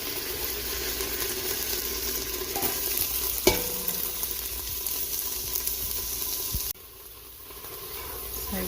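Onions sizzle steadily in a pot with browned lamb, a continuous frying hiss broken by a sharp clack of a utensil and a stirring scrape before the sizzle briefly quiets.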